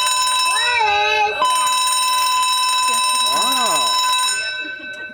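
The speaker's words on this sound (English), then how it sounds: "the alarm is old school when it has a physical bell to be rang" An old-school alarm with a physical ringing bell sounds aboard Royal Caribbean's Grandeur of the Seas cruise ship, a loud continuous metallic ring that runs throughout while a person talks and exclaims over it.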